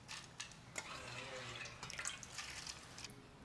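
Water pours and splashes steadily into dosa batter in a container, with a continuous close wash of noise and a few brief splashy peaks, no talking.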